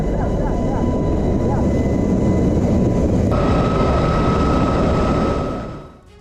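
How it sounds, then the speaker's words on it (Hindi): Helicopter in an Israeli army air rescue operation, a loud, dense, steady rotor and engine roar throughout, holding close and powerful before fading out at the end. "हेलीकॉप्टर का इस्तेमाल किया जा रहा है।"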